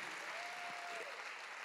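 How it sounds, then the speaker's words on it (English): Congregation clapping at a church service, steady dense applause throughout, with a faint whistle-like tone partway through. "give Zelda a clap"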